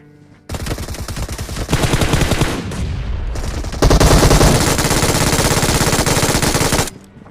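Sustained automatic gunfire from the battle royale game BGMI, a dense rapid stream of loud shots that surges at times with brief gaps, alone with no talking.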